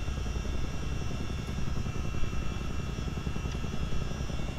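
A Chinook CH-47D helicopter hovers in Microsoft Flight Simulator, its steady, dense rotor and turbine drone holding constant and loud throughout, with no voices.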